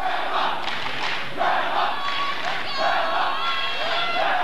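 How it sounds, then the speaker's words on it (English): A school rugby crowd chants from the stands at a Melbourne Grammar versus Scotch College First XV match, a sustained, rhythmic mass of voices rising and falling in waves with a whistle-like tone cutting through. "The Grammar crowd chanting."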